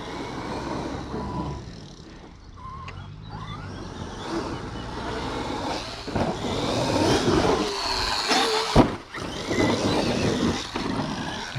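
A Big Mama RC car on a Sledge Hammer HW 1100kv 14/35 motor runs at full throttle outdoors, a loud continuous whine and roar that swells in the second half, with rough crunches and bumps over the ground.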